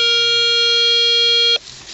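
A Garrett ACE 250 metal detector gives a loud, steady electronic tone on a 1 cent coin target while detecting a field in Bavaria, holding for about a second and a half before cutting off sharply.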